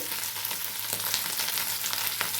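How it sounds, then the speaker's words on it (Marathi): Potatoes frying in a pan with sautéed green chilies, a steady close sizzle with faint stirring scrapes, continuous and alone without talk. "मिरच्या छान आपल्या परतलेल्या आहेत त्याच्यामध्ये आपल्याला बटाटा टाकून घ्यायचा आहे"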